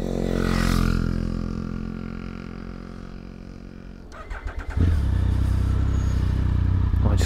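A small pit bike engine cranks and catches, then settles into a steady loud idle with a throaty buzz. A low rumbling drone runs beneath it the whole time, and there is no talking.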